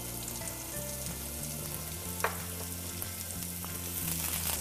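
Ginger, green chilies and curry leaves frying in hot oil, giving a steady close sizzle with occasional small pops and a faint stirring clatter.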